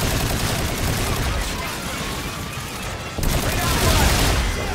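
Dense, continuous automatic gunfire from the first-person shooter Call of Duty Infinite Warfare, a steady loud fusillade of rapid shots with a brief dip before resuming at full intensity.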